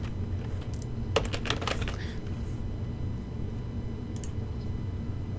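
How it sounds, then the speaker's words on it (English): A customer's name is typed on a computer keyboard, a short cluster of quick key clicks with a few more taps a little later over a quiet room hum. "Type your customer's name."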